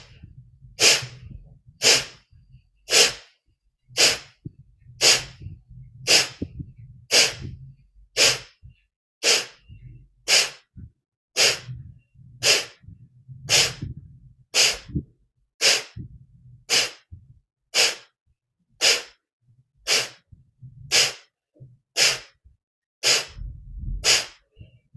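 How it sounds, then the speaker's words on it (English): Sharp, forceful nasal exhalations of Kapalabhati breathing in a yoga practice, about two dozen evenly spaced bursts at a brisk rhythm, close and clear, with faint background sound between them. "We're doing a last round of Kapalabhati."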